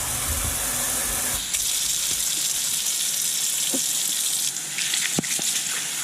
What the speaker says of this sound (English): I'm running hot water through it as well to kind of break the grease up